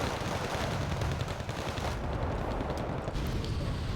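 Mortar fire in the video game Wargame Red Dragon: a continuous, dense barrage of overlapping blasts and crackling gunfire rumbles without pause, loud and heavily layered.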